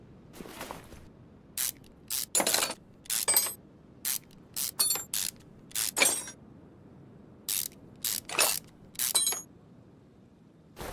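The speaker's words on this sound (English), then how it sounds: "let's pull the tail shaft" Mechanical parts being pulled off a car in Car Mechanic Simulator 2021, likely the Vallsen 2040 tail shaft, a string of short, sharp ratcheting and clanking bursts separated by brief gaps, fairly close and clear over a quiet background.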